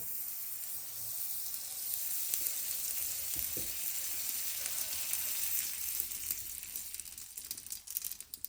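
Butter is brushed onto hot, freshly cooked soft homemade dough, giving a steady, close sizzling hiss with faint brushing strokes underneath and no voices.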